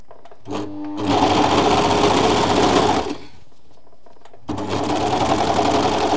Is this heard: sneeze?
no